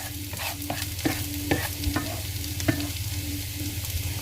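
Food for an omelette frying in a pan while a spatula stirs and scrapes it, with a steady close sizzle broken by repeated scraping strokes and no talking.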